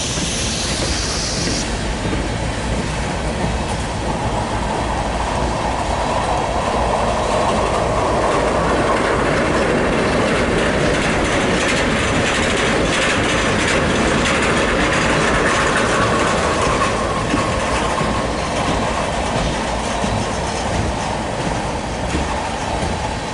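A CSX mixed freight train rolls past close and loud for over twenty seconds, a continuous rumble with clattering wheels and faint squeal, swelling toward the middle and staying steady with no talk.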